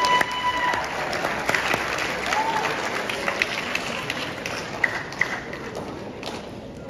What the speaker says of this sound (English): So when I start clapping, if you'd be so kind as to join me till the end of the song